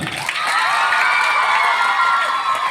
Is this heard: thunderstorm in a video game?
no